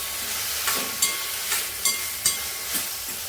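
Garam masala roasting in a pan for a spicy masala pumpkin dish makes a continuous close sizzle. Regular soft scraping strokes of stirring, about every half second, sit on top of it.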